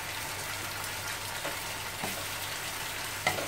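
Fish paella simmering in a pan as it is stirred, a steady soft sizzle and bubbling throughout with faint scraping, one sharper clink near the end, no talking.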